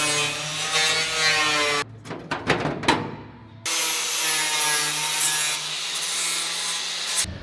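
A flap disc grinds down a freshly cut brace on an 88-98 Chevrolet C1500 truck being lowered, giving a sustained abrasive rasp with whining overtones. The grinding breaks off briefly into scraping clatter, then resumes steadily.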